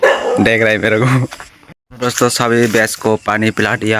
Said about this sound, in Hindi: मेरे को कुत्ता भौंक रहा है